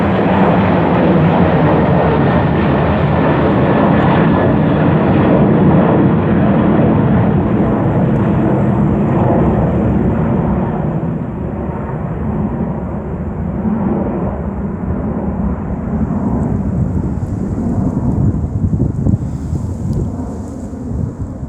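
A Ryanair jet airliner departing near Marston Green roars loudly and continuously as it takes off, a broad sustained rumble that gradually eases and thins as the aircraft climbs away, with no talking.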